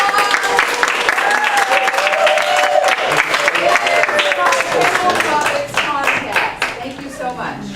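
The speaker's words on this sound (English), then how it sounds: "Let's give them a big round of applause." An audience at a contest gives a big round of applause, dense steady clapping mixed with crowd murmur and voices, loud and close for several seconds before tapering off near the end.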